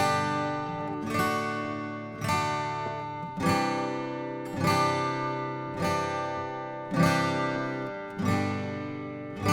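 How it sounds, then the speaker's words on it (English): Acoustic guitar strumming the verse chords of a song, eight steady strums roughly every 1.2 seconds, each ringing out and decaying before the next, close and clear with no talking. "it sounds like this with the strumming and the chord changes."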